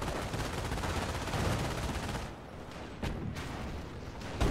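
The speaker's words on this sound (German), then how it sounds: "So ein MG ist praktisch." Sustained machine gun fire rattles loudly and nearly continuously in a Company of Heroes battle, thinning out midway before several sharp bursts and a final loud shot return.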